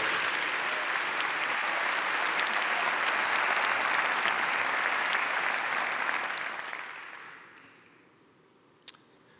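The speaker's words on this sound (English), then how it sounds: "Let's applaud all the people who make New York City great every single day." A large audience applauds during New York City's 2018 State of the City address: a broad, sustained wash of clapping for about seven seconds that tapers off gradually, ending with a single sharp knock.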